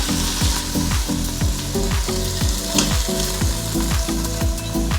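Chicken sears in a hot Instant Pot Pro Crisp, a loud steady sizzle with crackling spatters running continuously throughout.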